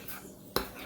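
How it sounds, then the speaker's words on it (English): A spoon strikes the inside of a mug once while stirring cream cheese mug cake batter, one short, close clink amid quiet. "So you're going to stir this up."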